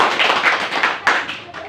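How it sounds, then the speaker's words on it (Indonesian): Audience clapping after a presentation, a short burst of dense hand claps from a group, fairly close and steady, with a swell midway before it begins to thin out. "Kita berikan aplaus yang meriah."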